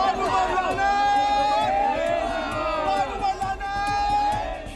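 Angry street crowd at a protest chants rhythmic anti-Pakistan slogans in loud, repeated bursts, many voices overlapping in a dense babble throughout.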